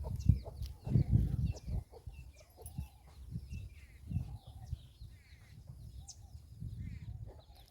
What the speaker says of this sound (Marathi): कोंबड्या